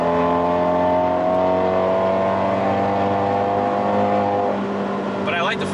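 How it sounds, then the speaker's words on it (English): Fiat 124 Spider Abarth engine held at high revs, a loud sustained drone with strong harmonics that eases off near the end, heard from inside the car; the voice track stays mostly clear of words. "I like the fact that I can rev it out that high"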